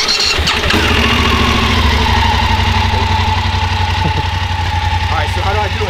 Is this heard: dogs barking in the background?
no